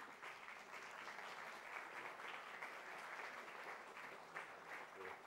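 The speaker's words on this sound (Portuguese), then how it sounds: "Uma salva de palmas, se faz favor." An audience at a live talk event in Porto claps continuously for several seconds, a dense and even wash of applause that sounds fairly distant and quiet.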